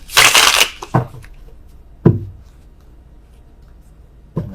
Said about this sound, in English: worst shuffling in the world